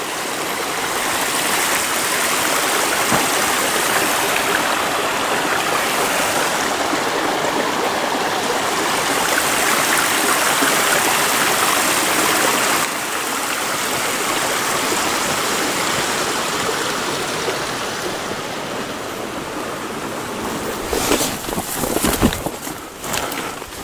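A creek beside a Tiger Mountain trail in Washington rushes in a steady, loud wash of flowing water over rocks, with a few scuffs and footsteps near the end.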